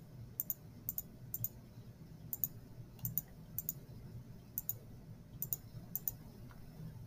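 A computer mouse clicks sharply and faintly, about a dozen quick clicks, some in pairs, spaced irregularly over a low room hum.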